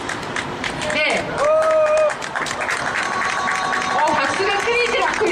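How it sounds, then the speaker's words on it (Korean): An audience at an outdoor May Day eve candlelight labor rally keeps up sustained, lively clapping for several seconds, with a voice speaking over the steady applause. "박수가 끊이질 않고 있습니다."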